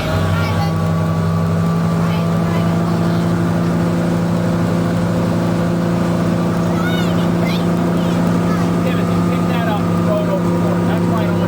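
A steady boat engine drones throughout, a constant low hum with a tonal whine, with faint voices and chirps in the background.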